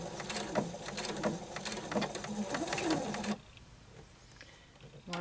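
Domestic sewing machine running a straight stitch along knit fabric from an old shirt, a steady rapid mechanical chatter in short bursts that stops abruptly near the end, leaving quieter room sound.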